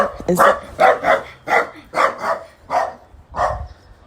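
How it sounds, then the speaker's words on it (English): A dog barks about eight times in a steady rhythm, sharp and fairly close, with no talking over the barks. "That is a dog"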